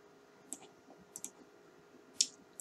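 A computer mouse clicks while someone works in the Windows Live Movie Maker editing program. There are about four sharp, close clicks: one single, a quick pair, then a louder one, all over a quiet room background.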